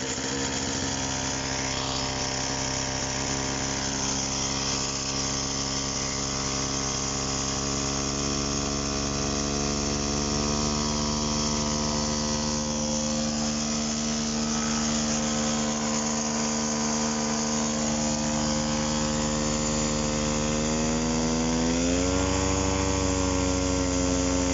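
A MINARI F1 Pro 200 trike engine on a Delta Piuma trike idles at low revs, a smooth even humming drone with steady harmonics, rising slightly near the end, no talk.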